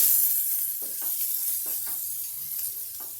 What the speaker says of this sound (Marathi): हा थोडासा कांदा आपण परतून घेऊया